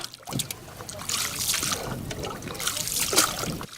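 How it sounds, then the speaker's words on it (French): Wooden pirogues move across the water of the Ziga dam, with splashing and trickling water close by and a steady wash throughout, while people talk in the background. "Nous assistons avec enthousiasme à des va-et-vient de pirogues, le langage de l'eau avec."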